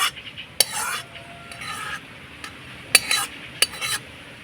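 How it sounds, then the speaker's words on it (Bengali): Cooked spiced filling for stuffed buns being spooned from the pan onto a plate: a handful of sharp metal scrapes and clinks at uneven intervals, close but fairly quiet, with faint kitchen background between them. "পুরটা আমি একটা প্লেটের মধ্যে তুলে নেব।"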